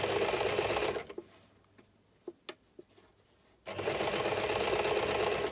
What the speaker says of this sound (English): maybe you'll see as I start sewing a bit more